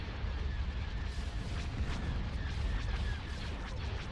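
Star Destroyer cannons firing in a space video game, a dense continuous roar of booming blasts that rumbles steadily throughout without distinct gaps.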